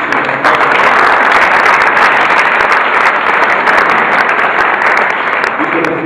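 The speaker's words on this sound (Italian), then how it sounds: "Un applauso per lui." Loud, sustained audience applause fills a gym presentation in Fondi, Italy, welcoming a guest: dense, even clapping from a large crowd, steady throughout at close range with no break.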